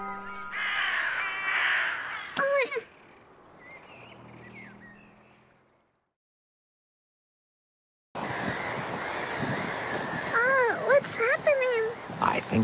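Crows cawing in the video game Little Misfortune: harsh, rising and falling caws in short clusters near the start and again toward the end, with a silent gap between and game voices mixed in.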